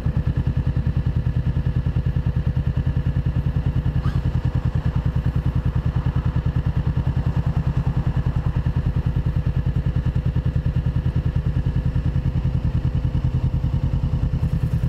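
A Honda CBR500R motorcycle engine runs steadily while riding, a dense, even low throb holding close and loud throughout with no talk.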